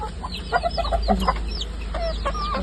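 Backyard chickens kept at home cluck and call in a steady overlapping stream, fairly close, over a low background rumble.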